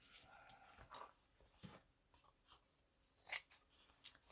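Scissors cutting paper or craft material, a few faint, quick snips and rustles spread out in a quiet room.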